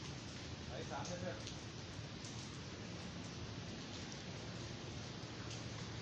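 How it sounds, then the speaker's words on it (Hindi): Steady rain pours down in Karachi in a continuous wash of noise, with a constant blustery rush of strong wind throughout. "तेज़ हवा के साथ ये बारिश हो रही है"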